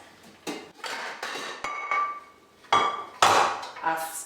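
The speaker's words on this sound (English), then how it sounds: "the fry pans are stacked with the biggest one on the bottom" Fry pans and lids clank as they are stacked, largest pan on the bottom, in a kitchen drawer: several sharp metallic knocks and rattles at close range, with short pauses between them.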